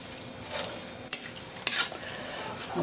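A utensil stirs sautéed vegetables with chicken and a splash of soy sauce in a pan, giving soft scraping and clinking strokes over a steady low sizzle, with a couple of sharper metal taps.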